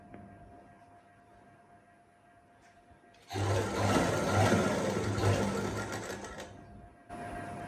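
A sewing machine stitches a ready-to-wear saree: after a quiet pause the motor whirs up loudly into a steady, close running drone for several seconds, slows briefly, then starts again.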